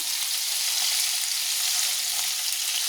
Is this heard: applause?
no